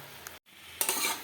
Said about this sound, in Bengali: মেথি শাক ভাজা হচ্ছে